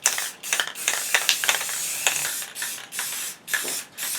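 Rust-Oleum matte clear coat hisses from an aerosol can in a series of short and medium bursts separated by brief pauses, close and fairly loud, with no talking.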